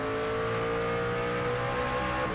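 Craftsman race truck engine in NASCAR 25 at Martinsville, a steady loud harmonic drone climbing gently in pitch as the throttle holds open, with faint tire noise underneath and no talking.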